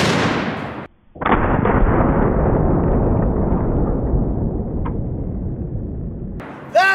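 Shotgun loaded with a 700 Nitro cartridge fires one very loud, close blast, followed by a short gap and a long rumbling decay, with another sharp bang at the end.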